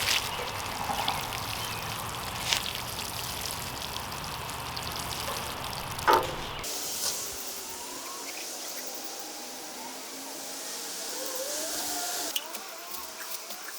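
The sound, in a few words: watering newly planted greenhouse beds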